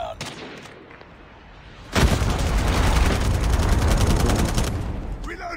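Missile launches and explosions in a shooter video game start with a sudden loud boom, followed by several seconds of dense, rapid-fire bursts and rumbling blasts, close and heavy.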